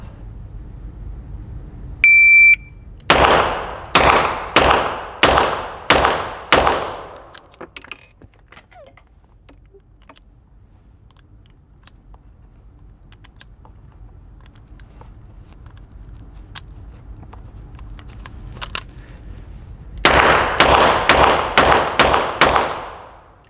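A shot timer's beep followed by a rapid string of six Smith & Wesson revolver shots, then a long quiet pause with faint handling noise, and another fast burst of six shots near the end, all loud and close.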